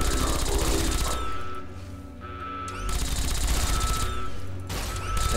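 Gunfire rings out at a firing range in the video game Fallout New Vegas, loud bursts of rapid shots in two long volleys separated by a brief lull, with no talking.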